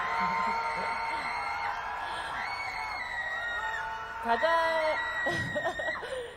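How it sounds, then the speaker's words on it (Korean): A crowd whoops and cheers at the Busan International Film Festival 2022 open talk for the film Broker. The cheering is steady and fairly loud throughout, with a sustained tonal sound running underneath and louder bursts near the end. "여러분 큰 박수 부탁드립니다."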